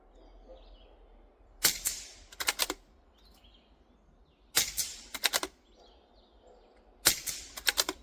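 .22 rifle shots of CCI standard velocity ammo fired into dirt, heard as three clusters of sharp cracks, mostly two or three shots each, standing out from a quiet outdoor background.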